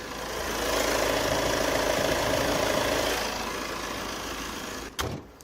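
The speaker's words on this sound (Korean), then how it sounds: "굉장히 정갈된 디젤 사운드, 잡소리 없습니다" An imported diesel sedan's engine idling up close with the hood open, a steady low rumble with a slight knock, ending with a short clunk.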